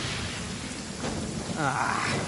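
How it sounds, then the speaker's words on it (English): Rain pours steadily during a lightning storm in the Genshin Impact video game, a continuous wash of drops with a low rumble of thunder building partway through, while a voice speaks over it. "Uh-oh! Lightning storm!"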